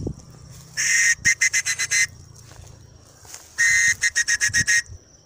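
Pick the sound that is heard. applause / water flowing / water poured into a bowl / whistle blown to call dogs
whistle blown to call dogs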